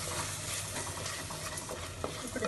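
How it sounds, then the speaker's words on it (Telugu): Turmeric frying in a pan makes a soft, close sizzle with faint stirring scrapes, quiet and continuous. "ఇప్పుడు 1 చిన్న స్పూన్ పసుపు కాసేపు వేయించేసాక ఇది కూడా మంచి వాసన వచ్చేంత వరకు వేయించుకోవాలి."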